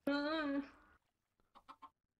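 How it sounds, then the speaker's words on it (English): A Minecraft chicken lets out one loud, drawn-out call, followed after a pause by three short, quieter clucks in quick succession, clear and close in the game. "Now you're just going to kill chickens with lava."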